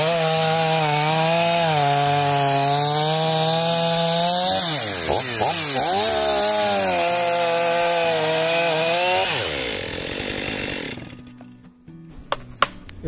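A Stihl MS 500i chainsaw roars close up, its engine pitch dropping as the chain bites into wood, then surging and winding down before cutting out near the end.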